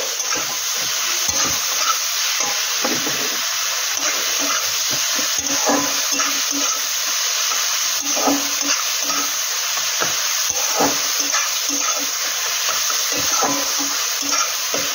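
Meat curry frying in a pan as it is stirred, a steady bright sizzle with repeated soft scraping and clacking strokes of the spoon at an irregular rhythm, close up and continuous.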